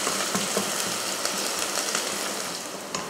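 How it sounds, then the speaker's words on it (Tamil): Small onions sauté in a pan with a dense, steady sizzle close up, broken by soft irregular stirring clicks throughout, no talking. "இதை வதக்கிடுவோம். நல்லா பொன்னிறமாக வரட்டும்."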